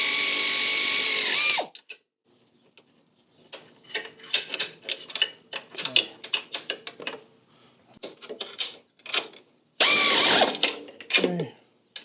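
A hand wrench ratcheting on the spare tire mount bolts of a Can-Am Maverick Trail, clusters of quick metallic clicks in bursts, bracketed by brief loud noise at the start and near the end.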